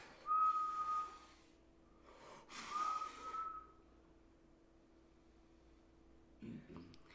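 Two breathy attempts at whistling, each a thin, faltering tone with rushing air, close by, followed by a quiet pause and a soft rustle.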